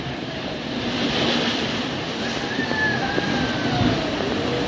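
Strong sea waves surge continuously with a rushing, breathy roar, wind buffeting the microphone close by and a faint engine drone underneath, no talking.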